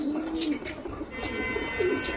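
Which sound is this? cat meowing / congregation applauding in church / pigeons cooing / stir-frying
pigeons cooing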